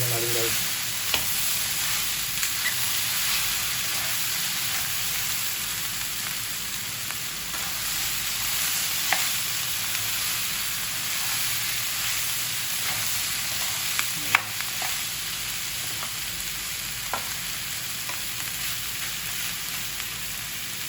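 Dinuguan fries in a pan with a constant, dense sizzle, broken by occasional scrapes and clinks of stirring, steady and close throughout with no talk.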